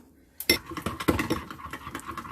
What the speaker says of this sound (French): Il faut bien fouetter jusqu'à ce que ça soit assez liquide, très lisse.